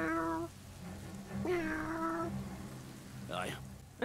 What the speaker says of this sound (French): C'est un chat, c'est un chat.